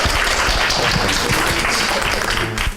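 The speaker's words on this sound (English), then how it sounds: "Let's give our panelists one more round of applause." Audience applause for the panelists at the close of an academic panel on religious minorities in the French Revolution, a dense, loud, sustained burst of clapping from a room full of people, tapering slightly at the end.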